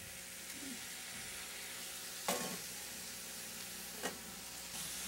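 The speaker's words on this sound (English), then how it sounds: "I'm going to finish cooking them in the skillet." Noodles and scallion roots sizzle steadily in a skillet, a constant hiss of frying broken by a couple of brief scraping stirs.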